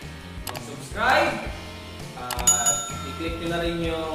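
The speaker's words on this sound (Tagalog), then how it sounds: "i-click nyo na rin yung bell notification" A bright bicycle-style bell rings twice as a subscribe-notification sound effect, crisp metallic dings over someone talking and background music.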